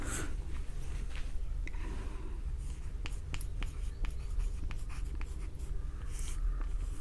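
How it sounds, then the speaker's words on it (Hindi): A pen scratches across paper while a definition is written, the faint close-up strokes coming as a continuous run of soft scratches and small ticks. "आइए हम परिभाषा लिखते हैं।"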